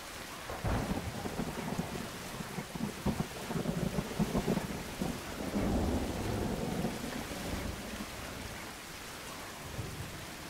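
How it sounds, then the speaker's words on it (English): Video game thunderstorm with steady rain falling on surfaces and rolling rumbles of thunder swelling and receding throughout, no voices. "the rain just would not end"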